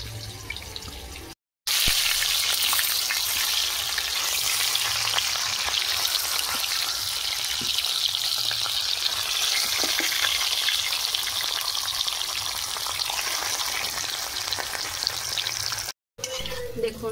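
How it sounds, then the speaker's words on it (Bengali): Potatoes frying in a pan for a stuffed potato dish, a continuous close sizzle and hiss lasting the full length with faint stirring scrapes and brief breaks near the start and end. "দেখুন আলু ভাজা হয়ে গেছে। আলু এমন ভাজতে হবে যাতে সেদ্ধ হয়ে যায়।"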